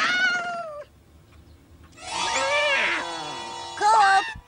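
A cat meows several times in drawn-out, wavering cries, one at the start, a longer yowl in the middle and a short final one, fairly close and clear.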